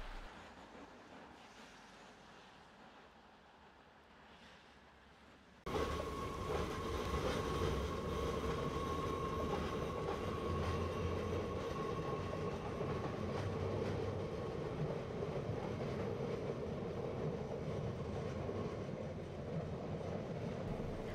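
A Sibic-hauled intercity train runs through Vierzon station without stopping, arriving abruptly as a loud, steady rumble of wheels and rolling stock that holds for around fifteen seconds after a quieter ambient lead-in.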